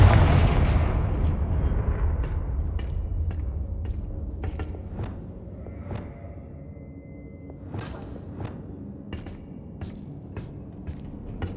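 A Confringo fire spell detonating in Hogwarts Legacy, a heavy booming blast that opens loud and slowly rumbles away, followed by scattered sharp crackles and small impacts, no speech.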